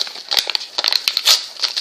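A Pop Rocks candy packet with no easy-open tear strip gets pulled open, giving a quick run of sharp, close plastic crinkles and crackles.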